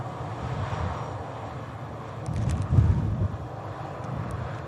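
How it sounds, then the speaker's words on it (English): An Airbus A350 airliner with Rolls-Royce Trent XWB engines passes at Manchester Airport, giving a distant broadband jet roar with wind noise. The sound swells briefly in the middle before easing back to a steady rumble. "Rolls-Royce Trent XWB engines on board. The Airbus A350."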